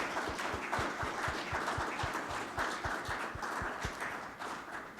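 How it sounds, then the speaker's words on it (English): Steady applause from an audience at a 2019 candidates forum in Alamosa, continuous and moderately loud, with a regular low thudding pulse running beneath the clapping throughout. "Let's give them a round of applause."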